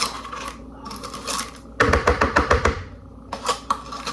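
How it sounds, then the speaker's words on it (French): A utensil clinks and taps rapidly against a bowl while sugar and yogurt are stirred together, in short bursts of quick, close, bright knocks. "On va pouvoir commencer à mélanger le sucre et le yaourt."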